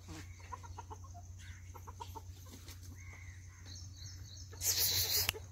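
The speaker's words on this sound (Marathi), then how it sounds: "ह्या बघा आमच्या कोंबड्या" Village hens clucking nearby in the morning, a series of short, throaty calls over a low steady hum, with a brighter, louder squawk near the end.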